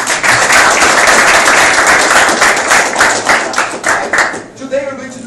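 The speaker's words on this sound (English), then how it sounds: "Clap your hands to Mirror, please." Sustained applause from a crowd, dense and steady, thinning into scattered claps near the end.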